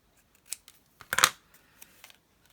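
Scissors cut a small paper tab in a couple of short, crisp snips close up, followed by faint handling clicks in an otherwise quiet room.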